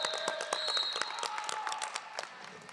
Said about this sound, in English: Can we get everyone give a big round of applause to our skating officials?